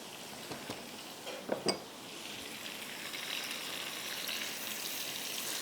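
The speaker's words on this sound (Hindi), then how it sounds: "चिकन को अच्छी तरह प्याज के साथ घी में इसको आप मैरिनेशन समेत भूनिए।" Chicken with its marinade browns in ghee with onions, giving a soft, steady sizzle with a few sharp utensil clinks near the start.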